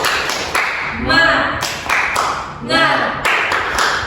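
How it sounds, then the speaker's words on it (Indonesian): A small group of students does a rhythmic clap-and-tap chant of encouragement in a classroom, with bursts of patterned clapping alternating with voices chanting loudly and close by. "Kita tepuk semangat dulu deh."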